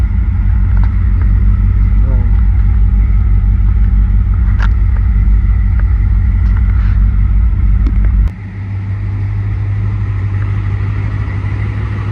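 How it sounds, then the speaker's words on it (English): A 1971 Dodge Charger engine idles with a low, steady rumble and a faint, rapid ticking from an exhaust leak, then the engine note drops and continues. "bit of an exhaust leak. Ricky ticky ticky ticky tick tick tick."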